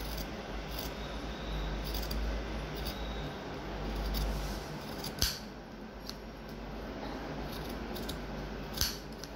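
Scissors snip along a fabric edge beside a zigzag-stitched trouser seam, with soft crisp cuts over quiet room noise and a few sharper clicks of the blades.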